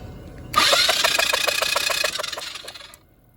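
A Chinese ATV's starter motor cranks the engine in a fast, even rhythm for about two and a half seconds, loud and close, then cuts off abruptly without the engine catching.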